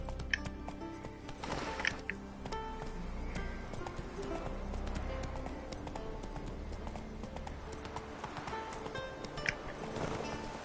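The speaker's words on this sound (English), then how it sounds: "Run, Roach." Horse galloping in the video game Witcher 3, a quick rhythmic clip-clop of hooves running steadily across the whole stretch, moderately loud with light ambient background.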